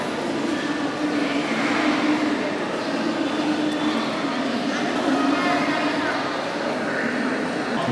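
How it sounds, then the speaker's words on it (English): Ambience at a busy train station in Bangladesh: a steady rumble of rail traffic and a hubbub of many voices blend into a dense, continuous wash with talk throughout. "This is the station."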